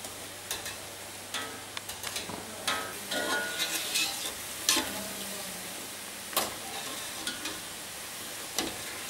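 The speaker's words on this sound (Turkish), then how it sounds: "10-15 dakika falan kızartacağız." Lokma dough balls fry in hot oil, giving a steady sizzle broken by scattered ticks and clinks from stirring, close and fairly quiet, with no talk.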